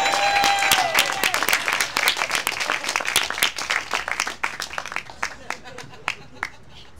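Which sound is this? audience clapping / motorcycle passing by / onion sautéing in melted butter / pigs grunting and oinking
audience clapping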